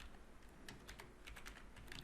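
Keys clatter on a computer keyboard in quick, uneven bursts while an internet address is typed, close and fairly soft against a quiet room.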